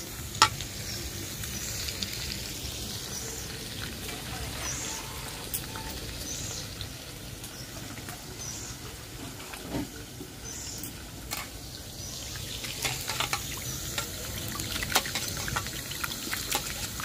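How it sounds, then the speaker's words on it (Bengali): Chicken sautéing in a pan gives a steady, close sizzle throughout, with occasional scrapes and clicks of stirring and no voices. "চিকেনটা কষা হইতেছে"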